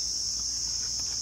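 Crickets chirp loudly and without pause outdoors near a kitchen where hilsa fish is being prepared, a shrill, steady drone that fills the whole moment with no talking.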